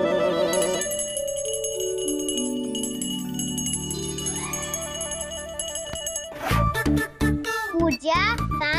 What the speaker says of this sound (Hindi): ये घंटियाँ बजाकर माँ की नींद मत खराब करो।